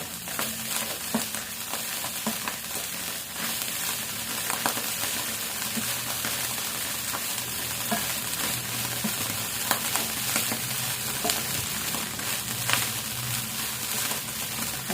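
Ground pork seasoned with garlic, onion, pepper and salt fries in a pan, a dense, steady sizzle that holds throughout with occasional stirring scrapes, close and without talk.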